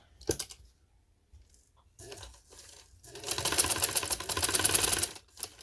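A sewing machine stitches around a V neck, with short bursts of needle clatter, pauses and cloth handling, then a longer steady run of rapid stitching before stopping.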